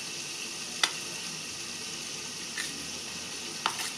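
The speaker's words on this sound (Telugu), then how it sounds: "నేను పచ్చిమిర్చి వేస్తున్నాను" Green chillies for a cabbage chutney fry in a pan with a steady, quiet sizzling hiss, broken by three light clicks.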